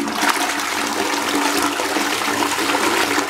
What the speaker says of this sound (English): Good toilet, good flush, saves water.